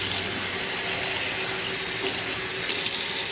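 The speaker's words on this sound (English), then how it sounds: "You're gonna want to add more water though" A kitchen tap runs steadily, pouring water onto lentils in a pot for dahl, a constant loud hiss and splash with a slight rise in splashing near the end.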